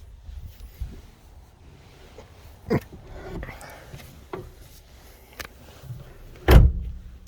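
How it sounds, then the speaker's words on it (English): Faint rustling and clicks lead up to a solid, heavy 1954 Packard Cavalier car door thunking shut near the end, close and fairly loud with a brief rattle. "Doors close so effortlessly"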